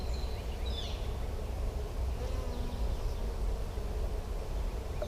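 Honey bees swarm and buzz around an open hive in a bee barn, a dense, steady, close drone with no talking.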